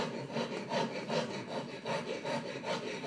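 A hand saw cuts through a piece of wood clamped in a metal vise, giving steady back-and-forth rasping strokes, about three per second, close and alone with no talking.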